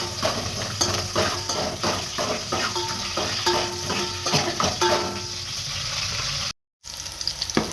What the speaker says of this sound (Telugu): తెల్లగడ్డ అలాగే పచ్చిమిరపకాయ 2 వేసి కొంచెం హీట్ చేసుకుందాం